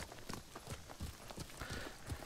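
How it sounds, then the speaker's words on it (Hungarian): Quick, rhythmic clip-clop of a horse's trotting hooves in the video game Ghost of Tsushima, fairly faint, repeating steadily against a soft background hiss. "Jó lovak ezek, hogy így bírják az ügetést."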